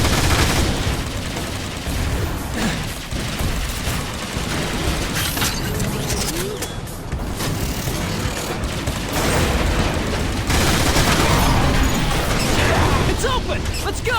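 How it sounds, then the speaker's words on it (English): Autobot grenade blasts and heavy gunfire in the Transformers War for Cybertron game in Iacon city, a dense, continuous roar of shots, booms and crashes with voices shouting over the chaos. "Autobot grenade deployed."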